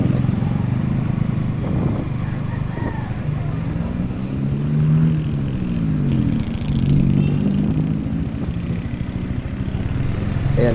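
A motorcycle rides along a road in the hills of San Andres, Quezon, its engine droning steadily under wind buffeting, with the pitch rising and falling through a few gear changes and throttle swells.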